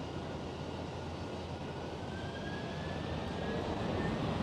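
A Boeing 747 jetliner departing Schiphol in Amsterdam, a distant, moderately quiet broadband engine roar with a thin rising whine, slowly swelling over a few seconds without speech.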